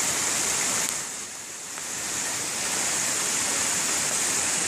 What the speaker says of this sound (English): This little side creek.